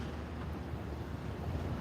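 Steady wind rushing and buffeting outdoors, a continuous low roar with no voices.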